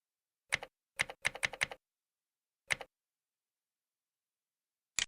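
Computer keyboard typing while searching in the AWS console, a few short bursts of quick, crisp key clicks separated by silence, close and clear with no talk.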